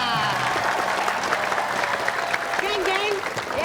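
Steady, loud applause from a studio audience at a comedy show, with voices and cheers mixed through the clapping.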